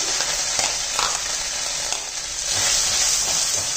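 Onion frying with ginger garlic paste for ragda patties, a dense, loud, close sizzle with a steady hiss and light stirring throughout.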